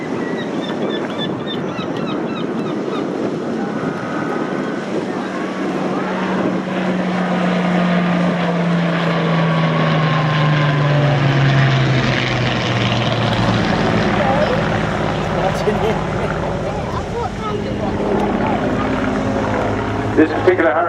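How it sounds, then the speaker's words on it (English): A Hawker Hurricane propeller fighter flying past at a seaside airshow, a loud sustained engine drone that rises and shifts in pitch as it passes, with a commentator talking over it. "The Hurricane was the first British monoplane 8-gun fighter"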